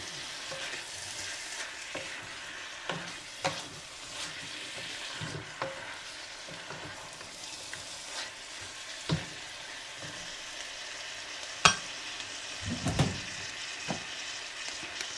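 Beef rice noodle soup ingredients stirred and sizzling in a pan, a soft continuous fry with scattered scraping clicks of the utensil, fairly faint and close, with no talking.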